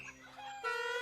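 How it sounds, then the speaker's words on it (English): Chickens on a cartoon farm give a brief burst of clucks, close and fairly faint, lasting about a second. "Chickens? Farm? What's going on down there?"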